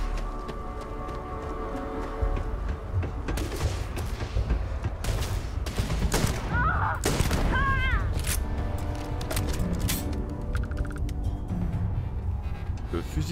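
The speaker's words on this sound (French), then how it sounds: "On pourrait utiliser un fusil de papa." Rifle fire in the Starfield video game, a burst of loud booming shots mid-clip over a rumbling background, with people talking around it.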